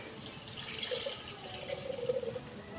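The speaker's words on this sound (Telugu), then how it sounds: "ఇప్పుడు నేను ఇంట్లో ఎసరు పెడతాను" Water pours steadily into a cooking pot for kali porridge, giving a soft, continuous splashing and gurgling, fairly faint and with no talking.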